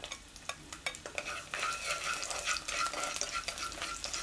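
Sliced garlic sizzles in a spoonful of hot cooking oil in a pan over medium heat, a soft crackling fry with clinks and stirring of a utensil against the pan, fairly quiet and without talk.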